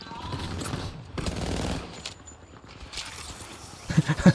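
Distant shotgun blasts in the video game Apex Legends, a few muffled booms and scattered crackles over a low ambient rumble, louder shots bunching near the end.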